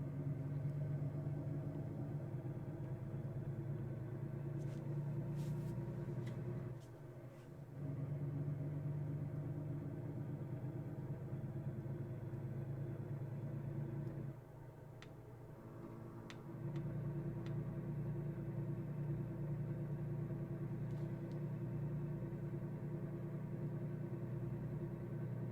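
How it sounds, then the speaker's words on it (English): A truck engine in a trucking simulator game rumbles steadily at low pitch with a ticking, uneven beat, briefly dropping in level twice, with no talk. "This truck does not sound like it's doing well."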